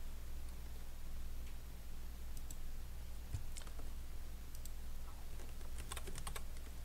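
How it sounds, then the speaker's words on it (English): Scattered keyboard clicks as shortcuts like Ctrl+C and Ctrl+V are pressed on a computer keyboard, with short bursts of typing over a steady low hum, close by, with no talking. "I'm using my keyboard shortcuts, Control C to copy, Control V as in Victor to paste"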